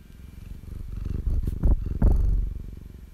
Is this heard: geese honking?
no